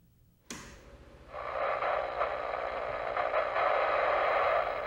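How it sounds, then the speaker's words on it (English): A restored WW2 SCR-284 army radio receiver, running on a replica BA43 battery with a makeshift wire antenna, switches on with a click. A brief quiet follows, then steady, loud, crackly static hiss that keeps going to the end. "Noisy, crackly static."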